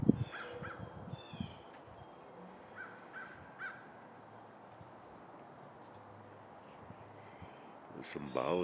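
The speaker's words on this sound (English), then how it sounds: "the birds are really starting to sound off and a lot of activity." Crows caw outdoors with other bird activity, scattered calls at moderate distance over a faint background hiss, some louder near the start and end.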